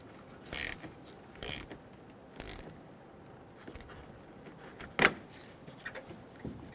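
Short ratchet clicks come in several quick bursts, separated by pauses, while a bolt is snugged down on a 2005-2015 Toyota Tacoma with the 2.7L four-cylinder. The clicks are close but fairly quiet, with a few faint metallic taps between bursts.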